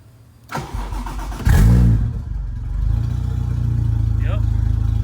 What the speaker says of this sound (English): Does she still start?